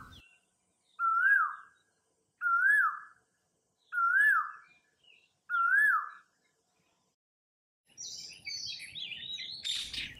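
A rose-ringed parakeet at a window gives four clear, evenly spaced whistled calls, each rising and then dipping. A burst of busier, scratchier chattering follows near the end.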